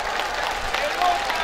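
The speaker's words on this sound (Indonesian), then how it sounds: "Tepuk tangan buat semuanya." Crowd applause at a political gathering, a dense burst of clapping with a voice faintly audible beneath it.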